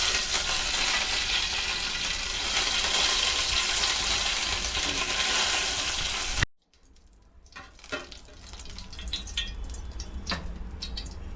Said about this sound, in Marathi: फोडणी तडतडते.